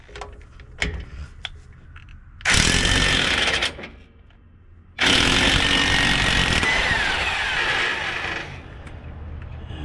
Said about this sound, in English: I'm gonna take this off with the impact. It's a the bolt is a 21 millimeter.